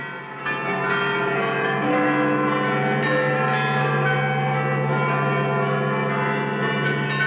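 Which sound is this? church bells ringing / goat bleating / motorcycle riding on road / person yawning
church bells ringing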